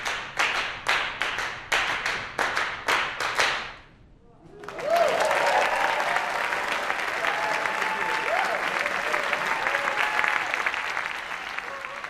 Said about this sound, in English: One performer in each pair is providing the rhythm, while the other is clapping the same pattern, but phasing in and out of tempo.